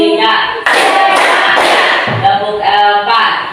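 Students in a classroom clap their hands together in a counted rhythm, loud and near, with bursts of claps mixed with voices chanting along.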